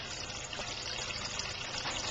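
Water trickles and gushes steadily into a small garden pond, a close, continuous splashing flow with no voices.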